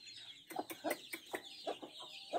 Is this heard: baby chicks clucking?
yes